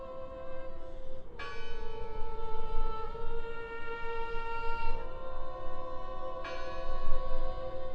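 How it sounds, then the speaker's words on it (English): A bell in the Draugen game rings out in long, resonant tolls, struck twice with the ringing tones sustaining and overlapping, loud and fairly close over a rough background rumble. "I heard the bell."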